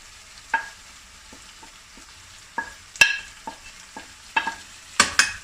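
Sautéed onions with garlic and ginger powder get stirred in a pan for spicy chicken pasta, scattered scrapes and taps of a spoon over a faint low sizzle, close by, without talk.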